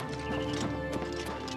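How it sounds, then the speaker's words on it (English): Horse hooves in the video game Oblivion Remastered: a short run of soft clip-clop steps with a brief whinny-like tone, fairly muffled, over a continuous game ambience. "Was I hearing the horse from way over there?"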